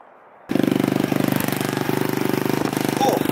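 A 50cc moped engine at a skatepark starts up abruptly and runs with a rapid, buzzing exhaust pulse, loud and close, holding steady with a slight rev near the end.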